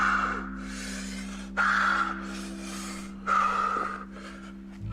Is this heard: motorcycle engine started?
no